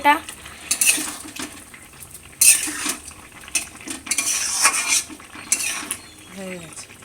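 Food stirred in a cooking pot gives loud, irregular scraping and clanking bursts of a metal spoon against the pot, with brief quieter pauses between strokes; no talking.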